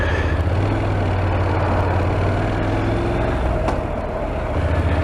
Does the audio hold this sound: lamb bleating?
no